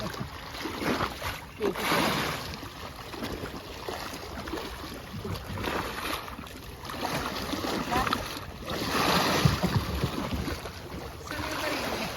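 Aboard a super ferry at sea, broad wash of water and wind surges and fades in uneven waves, moderately loud and steady, with no clear talk.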